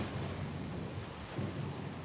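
Stormy weather at sea in a video game where a sloop is caught in a storm: steady rumbling rain and wind with low thunder rolls swelling, loud and continuous, no voices.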